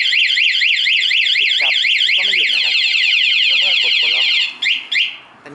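Anti-theft alarm on a Honda MSX motorcycle wails loud and close, a rapid rising-and-falling siren that shifts into fast chirping patterns before breaking off in a few short bursts at the end.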